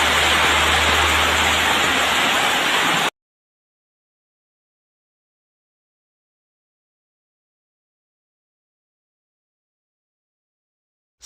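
Steady rain pours down outdoors at night, a dense broadband hiss that holds loud and even for about three seconds before cutting off abruptly into silence.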